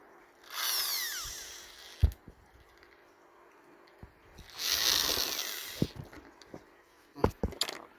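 Power drill or screwdriver whirring in two bursts while removing screws from an electric fan under repair, with sharp clicks and clunks of parts being handled between the runs, close and moderately loud.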